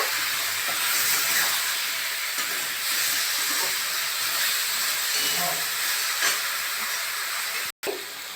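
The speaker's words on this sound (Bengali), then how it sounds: "এই মশলাটা দিয়ে দিচ্ছি আর ভালো করে ভেজে নেব" Spices fry in a hot pan for an elephant foot yam curry, giving a continuous, fairly loud hiss of sizzling oil with faint stirring scrapes and a momentary dropout near the end.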